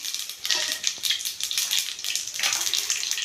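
Cumin and other spices sizzle and crackle continuously in hot oil, a bright fizzing hiss with small pops rising and falling, close by and with no talking.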